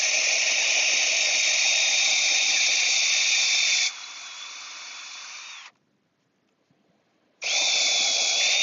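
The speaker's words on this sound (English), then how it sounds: "Definitely pre-drilling." Power drill pre-drilling a pilot hole in wood for a hex head screw, a loud steady whine that drops in pitch partway, cuts out for a short pause, then starts again.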